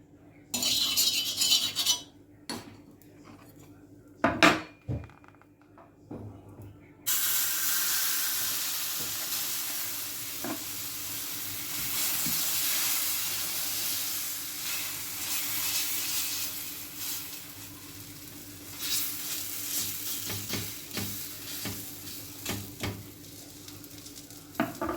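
Vegetable cheela batter hits a hot oiled pan and settles into a steady hissing sizzle after a few opening clanks of utensils, with occasional scrapes and taps of a spatula through the long frying.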